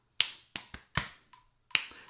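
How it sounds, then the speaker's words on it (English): Sharp finger snaps mixed with taps in a slow dance rhythm at about 40 bpm, six distinct crisp hits spaced unevenly across the phrase, close and alone with no talk. "That thing in the middle is a clap, tap, tap, snap."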